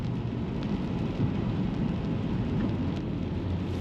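Steady, heavy rain pours down continuously on a Tesla Model 3 as a dense hiss with a low rumble underneath. No voices are heard.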